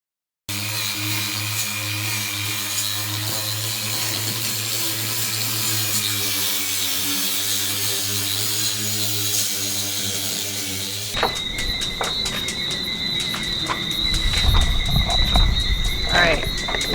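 A power tool sands and grinds a boat hull, a loud continuous droning whine that changes pitch partway through, then gives way to harsher scraping and rubbing with a lower rumble.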